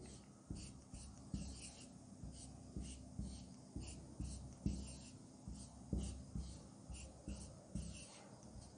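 Chalk or pen strokes while chemical ring structures for naphthalene and anthracene are drawn by hand, a steady series of scratchy taps and strokes at close range, fairly faint, with no talking.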